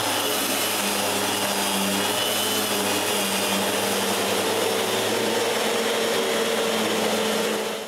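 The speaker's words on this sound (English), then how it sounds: "When the glue is dry, I finish the sanding of the last drawer." Power sander working a wooden drawer in a woodworking shop, a loud continuous whirring roar with a gritty hiss that holds steady throughout and fades slightly at the end, with no voices.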